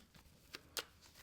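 Cards in Ultimate Guard sleeves being shuffled, a short, faint riffle with two crisp bursts of soft plastic flutter, the second louder, over a quiet background.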